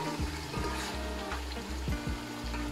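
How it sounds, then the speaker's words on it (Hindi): Homemade nihari masala roasting in a hot pan for beef nihari, with a continuous loud sizzle and occasional stirring scrapes, heard close and alone. "2 मिनट तक हम इसको भूनेंगे।"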